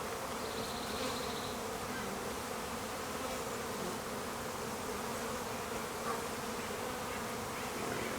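Honey bees buzz in a dense, continuous drone while a package of bees is installed into a hive. The hum stays steady and fairly close throughout, with no talking.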